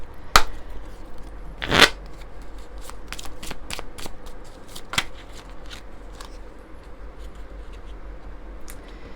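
Rune oracle cards are shuffled by hand, beginning with a few sharp riffles and then settling into a steady run of soft, rapid flicking and sliding of the cards, heard close with no talking.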